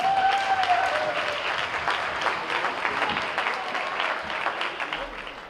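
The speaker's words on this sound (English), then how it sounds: "Give them a round of applause." A wedding reception audience applauds after the speeches, with dense, sustained clapping close by for the whole stretch. A brief high whistle or voice rises at the start.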